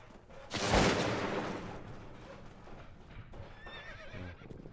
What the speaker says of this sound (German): Pferdchen müssen da weg.